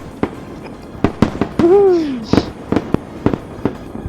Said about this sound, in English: Nice fireworks. Yeah, I like them.